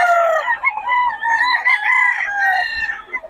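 Young seven-month-old gamecock stag rooster crowing up close, one drawn-out, loud cock-a-doodle-doo call with a wavering harmonic tone, alone without talk.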